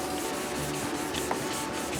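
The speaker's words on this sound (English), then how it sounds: "Alright, we're wet sanding here." Steady, continuous wet sanding strokes across a 1975 Pontiac Firebird body panel at 600 grit, a close and even abrasive swish with no pauses.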